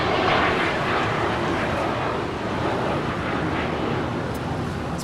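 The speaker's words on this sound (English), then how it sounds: "This is a Hawker 900 XP departing to Boeing Field." A Hawker 900XP business jet departs Los Angeles International Airport, its engines producing a broad, steady roar heard from a distance, thinning slightly over a few seconds with light wind buffeting.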